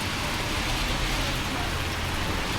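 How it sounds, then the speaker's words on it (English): Rain pours steadily in Germany, a dense, even hiss of heavy rainfall with no voices. "as it's raining like this"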